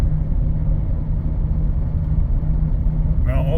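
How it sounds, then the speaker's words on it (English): A car engine idles with a misfire, a heavy, close, uneven low rumble that throbs throughout, with a voice briefly heard at the very end. "it's misfiring like a bugger right now"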